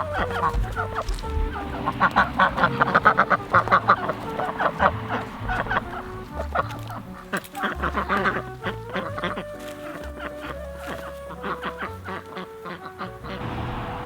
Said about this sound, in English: The ducks been getting in the garden.